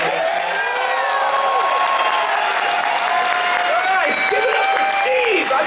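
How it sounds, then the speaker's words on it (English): A convention panel audience at New York Comic Con applauds the panelists, a steady, dense wash of clapping with some cheering that holds at full level throughout, with talking running over it. "can we just have a really big round of applause for our panelists?"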